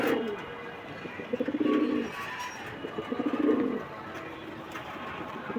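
Giribaz pigeons coo close by in two soft, rhythmic bursts of throaty pulsing calls, separated by quiet background.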